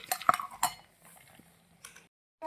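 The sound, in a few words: lid being put on a toy cooking pot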